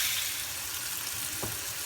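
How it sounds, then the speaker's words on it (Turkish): Potatoes fry in a pan with a faint, steady sizzle and crackle, soft and continuous throughout. "Patatesimizi de kızartıyoruz burada."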